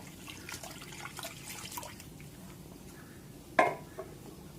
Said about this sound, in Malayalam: ആവശ്യത്തിന് ഇനി വെള്ളം ഒഴിച്ചു കൊടുക്കാം.